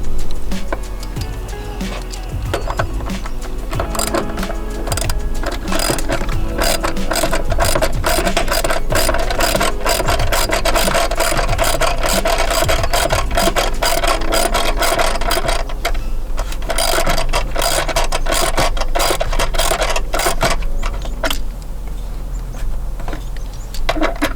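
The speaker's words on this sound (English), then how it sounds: "you need to loosen this hold down clamp. Loosen this up and take it off so you can remove the battery" A ratchet loosens the battery hold-down clamp on a Ford F150, giving a long, steady run of rapid, close metallic clicks with brief pauses between strokes.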